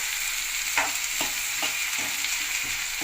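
Onions and eggplant frying in a pan while being stirred, a steady close sizzle with soft scraping strokes recurring about every half second.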